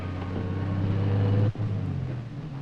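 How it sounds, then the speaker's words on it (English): A vehicle's low steady hum builds, drops off sharply midway, then continues as a lighter rumble. "That's a car."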